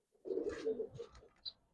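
Giribaz pigeons, khaki and colored breeds, give a short run of soft, low cooing, faint and close, with a brief higher chirp near the end.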